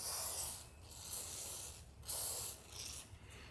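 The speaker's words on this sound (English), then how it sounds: "I'm just going to take some WD-40, nothing special, and I'm going to apply it to this seal" WD-40 spray hissing in short bursts onto the seal of a fuel pump for a 2004-2008 Ford F-150 5.4L, a soft close-up aerosol hiss with brief pauses between sprays.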